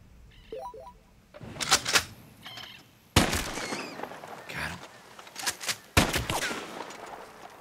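Varmint rifle shots during a hunt in the video game Red Dead Redemption 2, a handful of sharp cracks ringing out over ambient game sound and wildlife, with faint talk mixed in.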